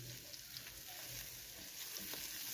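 Tomato chutney simmering in oil in a pan gives a soft, steady sizzle with faint bubbling and small crackles, quiet and close, with no one talking.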